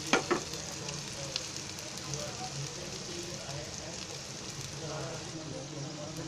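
Stuffed okra (bharleli bhendi) crackles softly in a pan while being stirred, producing a steady low sizzle with a few sharp scrapes near the start and a faint voice in the background.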